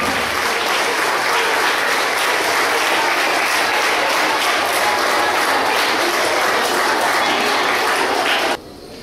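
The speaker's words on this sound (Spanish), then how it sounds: "El aplauso para ella" Loud, continuous applause from an assembled crowd at a Thursday school civic ceremony, dense clapping sustained for about eight seconds before cutting off abruptly.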